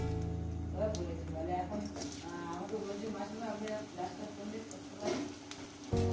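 Potatoes drop into hot oil already crackling with fried whole cumin, raising a steady close sizzle and frying hiss that carries on under a voice as she talks throughout.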